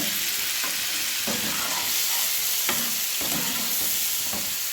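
Ginger garlic paste frying in a pan for egg butter malaikari, a loud continuous sizzle with spatula scrapes and stirs breaking through every second or so, close and alone.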